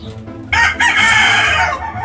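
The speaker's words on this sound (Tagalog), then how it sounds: "Mga manok ko." A rooster crows once, loud and close, a long ringing call that rises after a brief start and trails off, with faint background noise.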